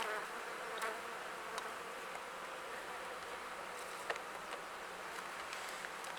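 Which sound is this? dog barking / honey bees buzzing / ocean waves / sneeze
honey bees buzzing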